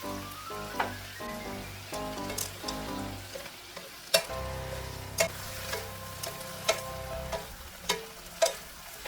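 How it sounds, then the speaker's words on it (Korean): Steamed broccoli and mushrooms stir-frying with garlic and chili in a pan with soy sauce, pepper and salt, steady close sizzling with sharp clicks and scrapes of stirring, no talking. "이제 마늘이 다 익었으면 찐 브로콜리와 버섯을 넣어줍니다."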